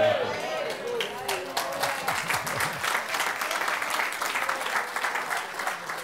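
A church congregation applauds and praises, a broad wash of clapping with vocal cheers and speech-like voices mixed in, starting from a spoken line and sustained at steady loudness.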